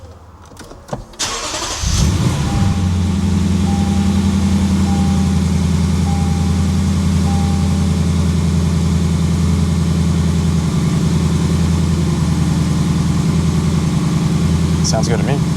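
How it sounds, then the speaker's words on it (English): A starter cranks briefly, then a car engine, newly fitted with a crank pulley kit, catches on first startup and settles into a steady, even idle that continues throughout. "Now we're doing the first startup to make sure everything's good."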